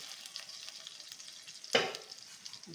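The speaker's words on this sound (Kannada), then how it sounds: "ಮಸಾಲೆ ಎಲ್ಲ ಚೆನ್ನಾಗಿ ಫ್ರೈ ಆಗಲಿ ಅಂತ ನಾನು ಲೋ ಫ್ಲೇಮಲ್ಲಿ ಇಟ್ಟಿದ್ದೀನಿ" Small eggplants coated in masala fry in oil on a low flame, making a faint, gentle sizzle with one sharp utensil clank near the middle.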